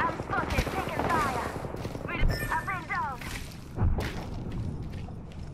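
Gunfire in Apex Legends crackles in rapid automatic bursts with a few heavier thumps mixed in, loud and dense across several seconds of combat.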